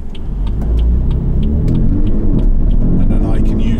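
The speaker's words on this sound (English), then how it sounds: "I'm gonna early upshift into second" A performance car's engine rumbles under load as the driver short-shifts early into second gear in manual mode, a steady close low growl through the cabin with a voice talking over it.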